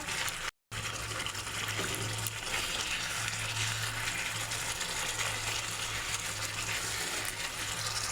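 Fish coated in hand-mixed roasted spice paste sizzles steadily in a pan, a dense continuous frying hiss with a low hum underneath, briefly cut by a moment of silence near the start.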